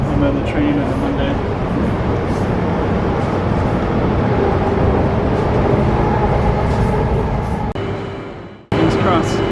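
A moving commuter train in Sydney rumbles with a steady, loud broadband roar from inside the carriage. Near the end there are a brief dip and a sharp cut before the noise resumes.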